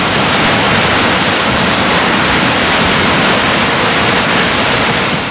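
Rushing floodwater in northern India after heavy rains, a loud, unbroken roar of surging waves and churning water filling the whole scene without pause or voices.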